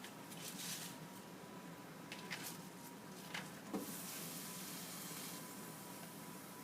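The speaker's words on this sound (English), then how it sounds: "So water is salted and boiling" A steady, soft bubbling hiss of salted water boiling with vegetables for blanching, with light sizzles and a few splashes, close by, with no talking.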